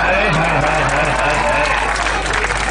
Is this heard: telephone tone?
no